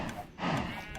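A cow in the video game Minecraft gives a single low moo that swells in the middle, heard over a busy game background.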